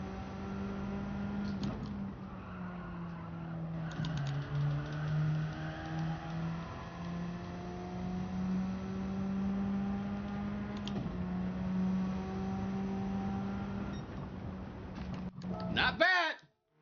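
A racing car in Gran Turismo 7 laps Brands Hatch Circuit, its engine droning steadily with rising and falling pitch as it shifts gears and brakes, ending in a sharp rev and sudden cutoff.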